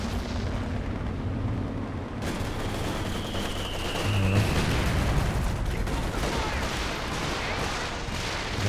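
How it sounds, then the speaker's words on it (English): Walking Stuka rocket artillery in Company of Heroes 2 fires amid battle noise, a rumbling burst of launches and booms mid-clip over continuous distant gunfire. "That's a walking Stuka."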